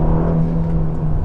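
A front-engined Ferrari Roma given a brief squirt of throttle, a close, loud, steady engine drone lasting just over a second.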